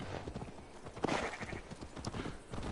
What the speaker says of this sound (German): Nimm doch das coole Pferd,